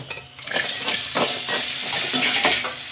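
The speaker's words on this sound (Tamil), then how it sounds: "கருவேப்பிலை நல்லா வதங்கட்டும்" Tomato and curry leaves sauté in a hot pan for hotel-style sambar, giving a loud, continuous sizzle with bursts of spoon stirring and scraping against the pan.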